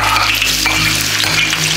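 Chopped large onions sauté in a pan, making a loud, continuous sizzling hiss over a steady low electrical hum, with no talking.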